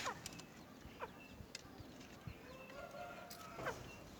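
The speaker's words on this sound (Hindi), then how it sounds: "और ये रहे हमारी मुर्गियाँ।" Chickens on a rooftop, giving a few faint, distant clucks and short calls over steady low background noise, with no talk.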